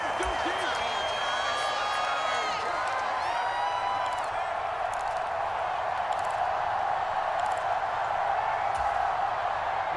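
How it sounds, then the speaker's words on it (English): A stadium crowd in the Madden NFL 25 football video game keeps up a steady roar of cheering beneath continuous play-by-play commentary. "This crowd turning up the decibel level."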